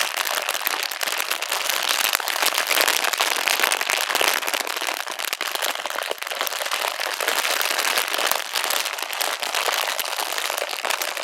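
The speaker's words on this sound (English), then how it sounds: "he did like several segments of crinkles that sounded like this" Dense, close crinkling fills the whole stretch, a continuous rapid crackle of sharp snaps that swells and eases slightly, with no talk.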